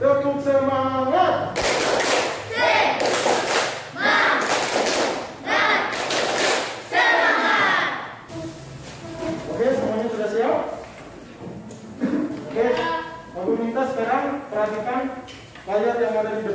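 Classroom of sixth-grade pupils doing a rhythmic spirit clap, several loud bursts of clapping in quick patterned runs, followed by a teacher talking.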